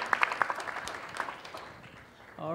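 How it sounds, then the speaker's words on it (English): Audience applause after a startup pitch at an indoor pitch day before venture funders, dense clapping that fades gradually over a couple of seconds before a voice begins speaking near the end. "All right, another round of applause"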